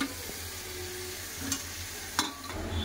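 Paneer, pumpkin and potato chunks are tipped into a spice paste cooked down in oil and stirred. A low sizzle runs throughout, with two sharp utensil clacks and a scraping stir near the end.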